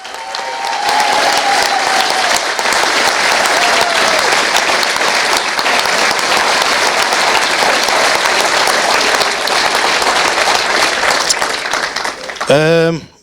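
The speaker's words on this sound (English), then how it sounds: "So a round of applause for Colin, please" Sustained applause from an audience at a football club supporters' event at Vale Park, loud and steady for about twelve seconds, with faint voices underneath before it tapers off.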